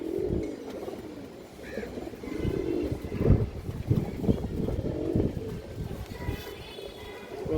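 A high-flying pigeon gives low, intermittent coos close by, mixed with soft handling and rustling noise.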